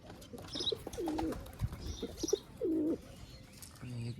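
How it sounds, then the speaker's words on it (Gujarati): Several soft, throaty pigeon coos in short phrases, fairly close, with faint chirps and outdoor background noise between them. "અહીંયા કબૂતર એક બેઠો છે"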